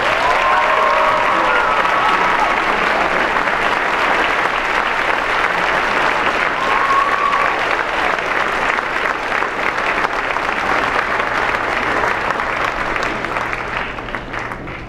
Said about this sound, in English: Please join me in a strong round of applause